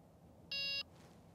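A fishing bite alarm on a pike, zander and perch predator fishing trip gives one short, clear electronic beep, a steady high tone lasting about a third of a second over quiet outdoor background.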